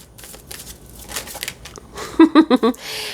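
Playing cards being shuffled at close range, a soft crinkly riffle that builds into four sharp, loud bursts near the end, with faint background noise before it.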